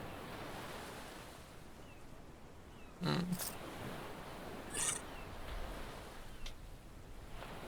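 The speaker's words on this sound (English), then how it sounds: "It's the ocean." Ocean surf in the platformer game Pepper Grinder: a steady, soft wash of waves and wind fills the scene, broken by a couple of brief, sharper splashes or game effects.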